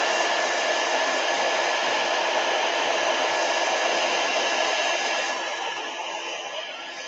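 A hair dryer blows steadily at close range while drying a mixed media card, a constant loud airy whoosh that eases slightly near the end, no talk.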